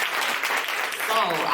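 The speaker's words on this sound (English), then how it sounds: "stand up and give her due diligence and clap for her" Gala audience applauding at a charity fundraiser, a steady dense wash of clapping throughout with a voice briefly audible near the end.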